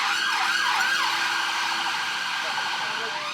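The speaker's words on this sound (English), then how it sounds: "Couple of ambulances." An ambulance siren wails in repeated rising and falling sweeps as it passes outside a London cafe, loud and steady throughout the short stretch with no talk over it.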